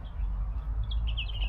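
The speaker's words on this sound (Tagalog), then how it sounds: "Sana naririnig nyo yung mga huni ng ibon. Ang daming ibon dito." Birds chirp in short, bright high calls from the trees, moderately near, over a low rumbling outdoor background with no talk.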